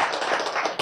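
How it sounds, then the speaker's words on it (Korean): A Bible lecture audience gives a short burst of clapping, many hands patting together in a quick steady flurry, close and moderately loud. "박수."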